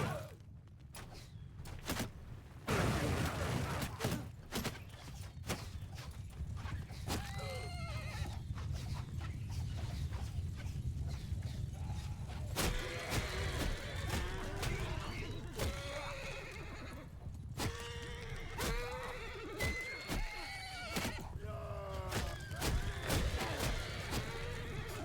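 Horses in a video game battle whinny again and again, with galloping hooves and clatter under a dense, busy mix.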